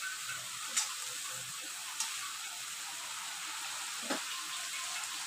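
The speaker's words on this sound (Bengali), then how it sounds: "এখন আমি দিয়ে দেবো এর মধ্যে চিংড়ি মাছ।" Prawns fry in spiced oil with a constant close sizzle and a few faint pops or clinks breaking through.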